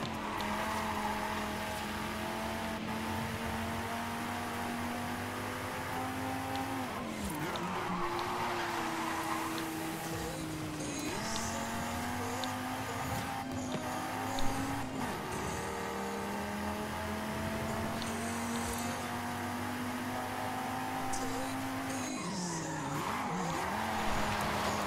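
Racing cars in Forza Horizon 5 screech with sustained tire squeal and skidding over a steady engine drone through a long race stretch, the pitch sliding up and down as they corner, with no talking.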